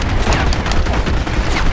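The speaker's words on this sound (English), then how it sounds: "I shot the guy in the ankle." Army of Two video game gunfire in an oil field level, heard as a quick burst of sharp, loud shots over rumbling background game noise, with no talking.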